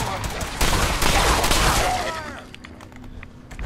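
A burst of shotgun fire from the video game Fallout 4, a loud close volley of sharp blasts crowding together before tailing off into quieter game ambience.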